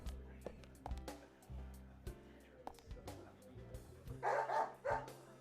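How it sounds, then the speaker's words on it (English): Willie the dog barking in the video game Deadly Premonition, a few short yaps and yips over game music and sound effects, with a voice talking in places. "What dog's in the diner?"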